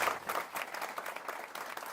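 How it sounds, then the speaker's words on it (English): A small audience at a startup meetup applauds a guest speaker, with quiet, somewhat distant clapping whose individual claps show as a loose, uneven patter. "If you give him a round of applause."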